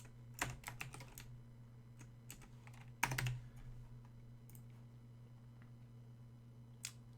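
Quiet bursts of typing on a computer keyboard, clusters of clicking keystrokes with a louder flurry midway and a few isolated taps, over a steady low electrical hum.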